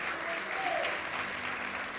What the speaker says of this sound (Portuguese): Pode aplaudir mais forte ao Senhor.